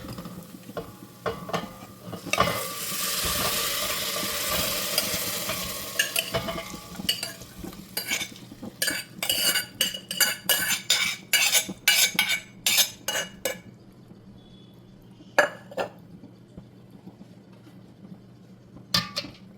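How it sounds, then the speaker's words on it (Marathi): Mutton hits a hot pan and sizzles loudly at first, then a spoon scrapes and clinks against the metal in quick, repeated strokes as the meat is stirred. "आता ह्यामध्ये घालूया हे मटण."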